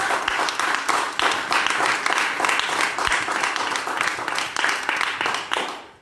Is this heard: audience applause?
yes